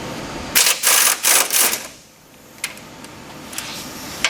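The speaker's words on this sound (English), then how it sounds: "Take those bolts loose, and James is going to finish removing" Ratchet working 18mm bolts loose on the front bumper of a 2015-17 GMC 2500/3500 truck, a quick burst of sharp rapid clicks followed by a few scattered single clicks, close and clear with no talking.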